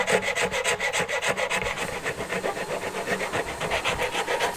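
A rasp works the wood of a mandolin neck as it is shaped by hand, making a rhythmic, close scraping: a fast run of back-and-forth strokes that slows into a steadier, evenly spaced rubbing pattern.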